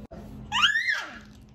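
A woman lets out one short, high scream that rises and falls, loud against quiet indoor room tone at home on New Year's.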